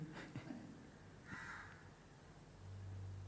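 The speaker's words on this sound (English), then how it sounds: "The crow is calling." A crow caws a couple of times outdoors, harsh calls rising over a low steady background hum, moderately distant, with no one speaking.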